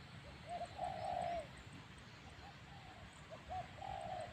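Soft dove cooing in short phrases, a few rounded hoots repeated with pauses, fairly faint against a quiet outdoor background.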